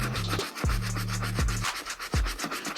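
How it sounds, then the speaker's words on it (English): Stiff brush scrubbing dirty 1985 Air Jordan sneakers, giving repeated close rasping strokes in a steady back-and-forth rhythm, alone with no talking. "these need a lot of scrubbing"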